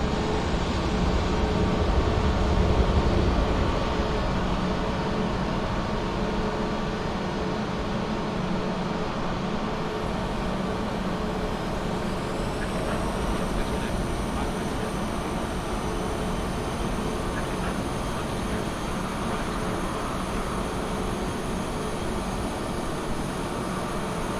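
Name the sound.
A320neo jet engine starting, video game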